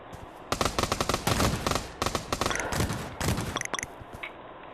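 Rapid bursts of gunfire in the VR shooter Pavlov VR on Quest, sharp close reports firing in quick clusters with short pauses, followed by a few scattered single shots.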